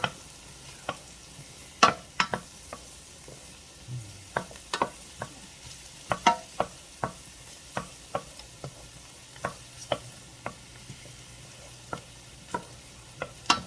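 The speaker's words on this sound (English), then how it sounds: "And once that butter is melted, then we will add our mushrooms into the mix." Mushrooms frying in melted butter in a pan, a low sizzle under repeated sharp clicks and scrapes of stirring, spaced irregularly throughout, with no talking.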